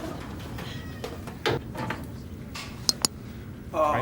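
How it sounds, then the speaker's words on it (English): Short cat meows from a sitcom episode, brief and mid-distance, with a few faint clicks and light background noise; no one speaks over it. "You can hear the cat."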